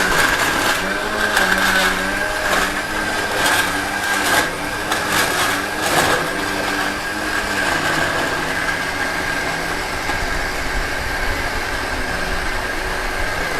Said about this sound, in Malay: Kita kisar hingga halus.